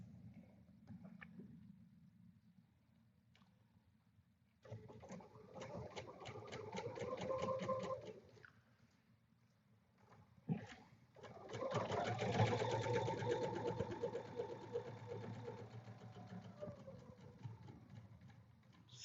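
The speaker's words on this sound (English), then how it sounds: "So we can sew this. After we go over the seam" A sewing machine stitches over a seam on a kids' summer fabric project in two runs, each a close rhythmic whirring burst lasting several seconds, with quiet pauses between them.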